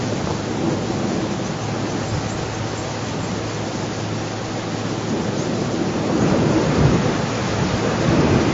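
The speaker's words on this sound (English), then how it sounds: "It's a gust of wind now." A heavy gust of wind buffets the microphone during a morning safari drive, a dense continuous roar that builds toward the end.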